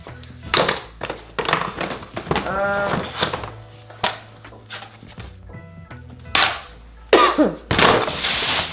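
A few short coughs break out among clattering kitchen items and muffled movement, fairly close, with brief pauses between them.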